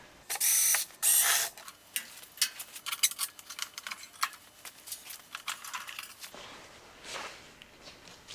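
Screws being removed from the electric start of an old snowblower, with two loud bursts of ratcheting followed by a long series of quick clicking and rattling turns up close, then softer handling noises.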